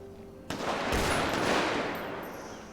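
A weapon fires in GTA V roleplay police training, one sharp loud report followed by a rolling, slowly fading echo, with no other sounds.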